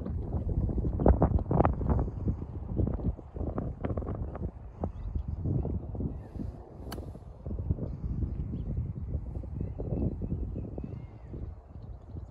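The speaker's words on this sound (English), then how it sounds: "So the wind picks up here, so you can't actually hear what I'm saying" Gusty wind buffets the microphone on a golf course, a loud, uneven low rumble with repeated surges and dips throughout, no clear voice audible beneath it.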